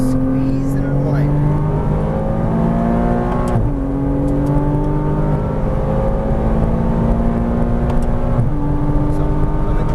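Porsche Cayman R engine working hard through a track chicane, loud and steady with rising revs that dip sharply twice under braking and downshifts, then climb again.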